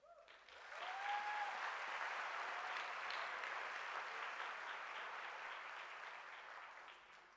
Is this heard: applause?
yes